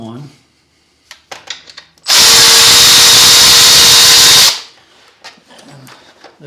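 A power tool whirs loudly for about two seconds as it backs out an 8mm bolt on a Lifan KPR 200 motorcycle, bracketed by softer clicks and handling noises before and after.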